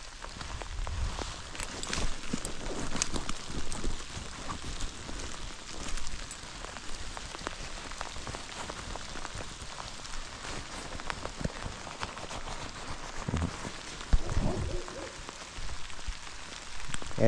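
Steady rain falls outdoors, a dense, continuous patter close by that holds at an even level for the whole stretch with no voices.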